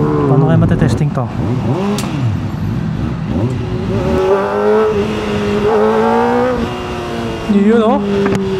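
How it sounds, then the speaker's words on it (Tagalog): A Kawasaki ZX4RR motorcycle with a remapped ECU and new SC exhaust accelerates through the gears, its engine note rising and dropping in several rev sweeps, with a rider talking over it. "First ride natin sa bagong remap na ZX4RR."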